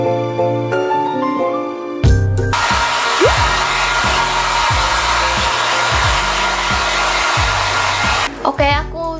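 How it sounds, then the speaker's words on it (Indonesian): A hair dryer blows steadily on hair for about seven seconds, loud and close with a constant whooshing roar, starting abruptly after a short stretch of background music and cutting off near the end. "Jadi aku mau keringin pakai hair dryer."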